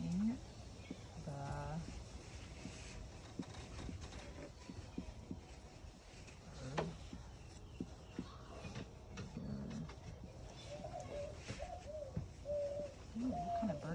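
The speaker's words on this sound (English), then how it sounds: "Morning dove." A mourning dove coos in soft low hoots amid outdoor birdsong, faint and intermittent, while people talk throughout.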